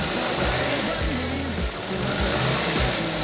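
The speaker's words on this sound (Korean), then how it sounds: "엔진 소리는 아주 나쁘진 않네요" The four-cylinder engine of a classic Kalista car under restoration, with a repaired coolant hose, idles steadily with a low, continuous rumble and slight fluctuations, close by, with a faint voice mixed in.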